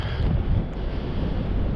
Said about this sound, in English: It's a little windy, folks.